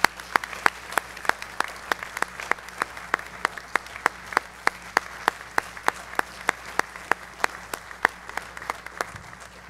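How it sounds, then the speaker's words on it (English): An audience in a hall at a high school athletic hall of fame induction applauds in steady, moderately loud rounds of clapping that keep going throughout. "can we give one more round of applause for Neal Baston?"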